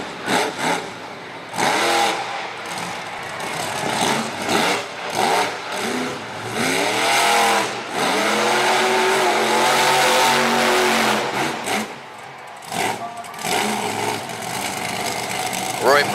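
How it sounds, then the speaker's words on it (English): Engine of a Ram monster truck, the Ice Cream Man custom, revving hard during a wheelie competition, rising and falling in loud surges under crowd noise and a commentator's voice. "Roy Bridgen in the Ram Custom Ice Cream Man Ice Cream truck taking the wheelie victory back to Deltona, Florida"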